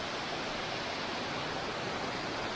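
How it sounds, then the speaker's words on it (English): Nhi Ho waterfall, a steady, broadband rushing roar of falling water with no voices, even and unbroken from start to end. "what a beautiful waterfall"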